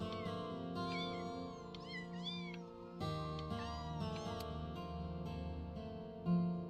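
Several cats meow in Before Your Eyes, high rising and falling calls repeated through the stretch over a steady low musical drone, fairly clear and close, with no one talking.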